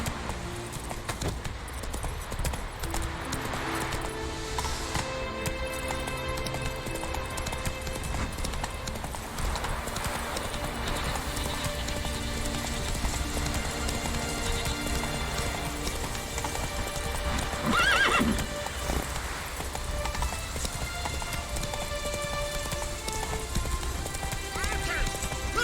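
Roach, a horse in The Witcher 3, gallops with steady rapid hoof clops that run the whole stretch under game music and ambience, with a brief louder burst near the end.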